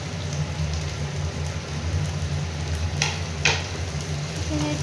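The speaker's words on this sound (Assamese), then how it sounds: "অলপমান ফ্ৰাই কৰিলেই হৈ যাব।" Onions with ginger and tomato fry in a pan for an Assamese chicken dish, a loud steady sizzle with a couple of sharp stirring clacks midway and no talk.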